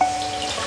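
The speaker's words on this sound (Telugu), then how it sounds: "ముందు మనం మష్రూమ్స్ క్లీన్ చేసుకుందామండి." Tap water running steadily into a sink while mushrooms are rinsed for a mushroom curry, a close, even splashing flow lasting under a second with no talk.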